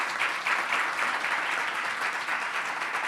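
An audience at a live-streamed event applauds a speaker with a steady, dense wash of many hands clapping, sustained and even throughout, with no talking over it.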